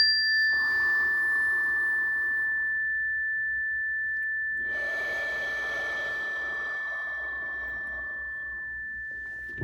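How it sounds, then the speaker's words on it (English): Two long, airy breaths during a guided breathing exercise, a slow inhale and then a longer exhale, soft and close, over a faint steady tone. "Inhale wide. Fill it up. Exhale tall."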